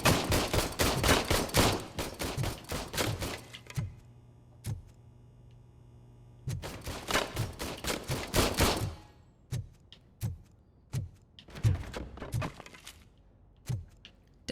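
Gunfire at a shooting range in the video game RoboCop: Rogue City: a rapid volley of sharp shots, a pause with a few single cracks, another fast burst, then spaced individual shots ringing out.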